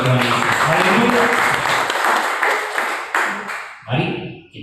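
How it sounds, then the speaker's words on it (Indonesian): Church congregation clapping loudly in a lively, dense burst of applause with cheering voices, gradually thinning out toward the end as a voice speaks over it. "Berikan tepuk tangan yang meriah buat Tuhan Yesus"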